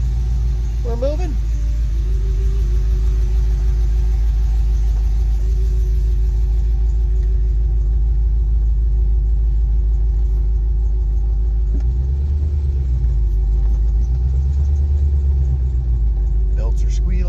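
A car that sat in a barn for over ten years creeps out in reverse, its engine giving a steady, loud low rumble close by, with a voice heard over the drone.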